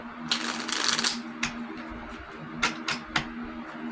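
A deck of tarot cards riffles in a quick, crisp burst, followed by several separate soft taps and snaps as the cards are squared up, close by.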